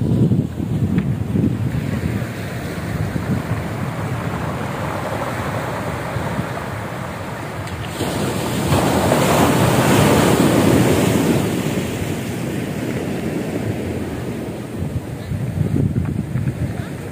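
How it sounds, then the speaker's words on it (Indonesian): Ocean waves break and wash onto a bay beach carrying stones, a continuous roar that swells in surges, with wind buffeting the microphone. "sedang terjadi pasang di mana ombak mengangkut batu-batuan yang banyak ke daerah pantai"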